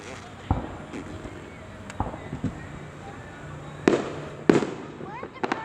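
Independence Day fireworks in Downingtown burst at a distance as several sharp, scattered booms a second or more apart, fairly faint against a quiet outdoor background.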